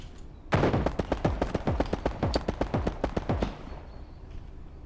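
Video game gunfire from a weapon fired from the hip: a rapid burst of about twenty sharp, evenly spaced shots, loud and close, ending abruptly before a quiet tail.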